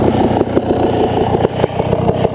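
Motorcycle engine idling in neutral on an enduro trail ride, a close, lumpy burbling putter with small irregular pulses and no speech.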